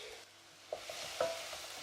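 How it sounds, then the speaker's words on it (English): Soft frying sizzle of sofrito in a pan, with a few light scraping stirs and small pops close up, no talking. "So we've got this lovely sofrito frying."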